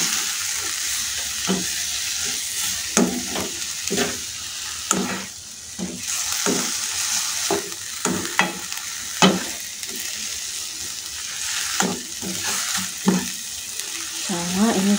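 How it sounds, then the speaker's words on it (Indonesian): Spicy bean sprouts sizzle in a frying pan as they are stirred, a constant hissing fry broken by repeated clattering scrapes of the utensil, close and fairly loud. "Kita aduk sampai rata."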